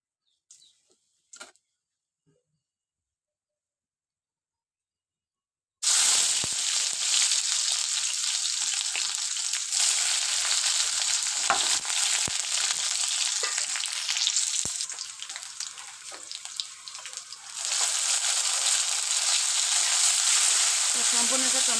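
Pangas fish pieces fry in a little oil for a curry, a loud, steady sizzle starting abruptly after several seconds of near silence, with occasional stirring and spattering.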